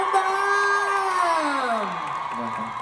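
A crowd at a YSL Freedom to Love event in Bangkok cheers BamBam with loud, high-pitched screams and whoops that swell together and slowly fade over a few seconds.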